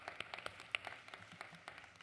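At a fall university convocation, a few audience members clap scattered, uneven claps for newly introduced faculty, quiet and sparse as if heard from a distance.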